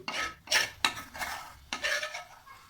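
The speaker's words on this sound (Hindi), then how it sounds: "ये जो प्याज हमने भुनी थी ये आपने इसमें डाल देनी है।" Fried onions being tipped and stirred into masoor lentil dal in a pot, heard as several loud scraping, clattering stirring strokes with brief pauses, close by and without speech.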